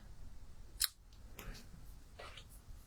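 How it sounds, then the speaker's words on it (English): Scissors make a single quick snip through paper while trimming a small piece for a patchwork floral card, a faint crisp cut followed by softer rustling of the paper at a quiet crafting table. "And I'll just trim this little piece off."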